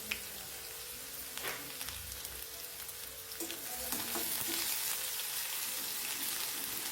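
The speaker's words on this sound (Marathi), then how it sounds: "कांदा पण आपल्याला तेलावर छान परतून घ्यायचा आहे" Chopped medium-size onion frying in hot oil for a potato and brinjal curry, a steady crackling sizzle that grows louder in the second half, with a few faint stirring clinks and no talk.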